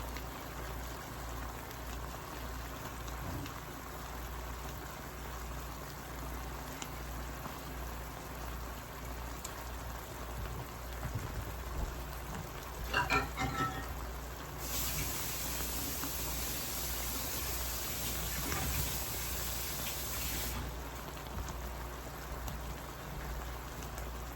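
Garlic cooking in a pan gives a steady, dense sizzle like light rain that continues throughout with a brighter hiss in the middle. A few clinks and scrapes sit near the middle, and no one speaks.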